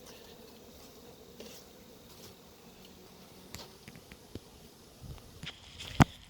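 Honey bees buzz faintly and steadily around an open hive colony outdoors, a low drone with a few scattered clicks and knocks and one sharp tap near the end, with no talk.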